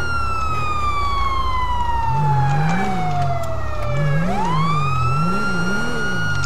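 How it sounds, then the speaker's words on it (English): A police car siren in the video game GTA V wails continuously and loudly, sweeping down in pitch and then rising again into a repeated warbling cycle, heard alone with no talk. "let me turn the siren off."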